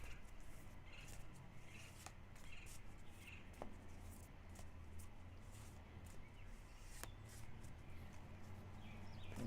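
Tarot and oracle cards shuffled at close range, a steady soft riffling and rubbing texture with a few sharp clicks of card edges snapping, over a low background hum.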